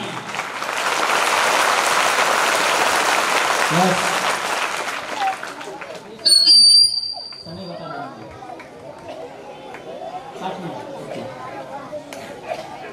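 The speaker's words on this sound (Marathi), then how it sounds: "उनके लिए जोरदार दिल से ताली बजाकर अभिनंदन करना चाहिए" An audience at a student guidance camp talk claps loudly and steadily for several seconds, then the applause fades into murmuring chatter and scattered talk.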